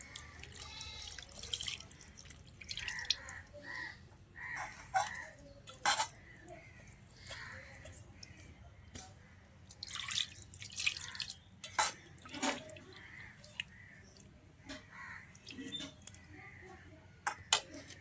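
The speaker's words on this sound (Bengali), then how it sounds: "এখন হাতটা ধুয়ে পানি দিয়ে দিচ্ছি" Quiet splashing and dripping of water poured into a pot of marinated pangas and tilapia fish curry, in short bursts with gaps, alongside light clinks of the pot, close by.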